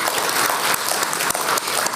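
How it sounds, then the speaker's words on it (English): At a graduation ceremony the crowd applauds the graduating class, loud, dense and continuous, with crisp individual claps standing out in a steady roar. "let's all give them a round of applause for their hard work"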